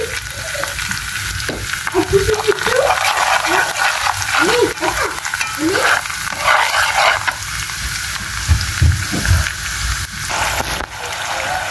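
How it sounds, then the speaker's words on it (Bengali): Taro pieces sizzle and fry in a pan with chili powder and turmeric while a utensil stirs and scrapes through them, a steady loud sizzle close by with a voice speaking over it. "মশলার মধ্যে দিয়ে দিলাম, মশলাগুলোর মধ্যে দিয়ে কষাই নেব"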